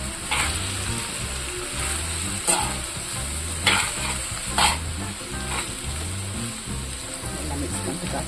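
Ragi semiya (finger millet vermicelli) being stirred and mixed in a hot pan with tomato and spices: a steady sizzle broken by a few sharp spatula scrapes and knocks against the pan, close and alone with no talking.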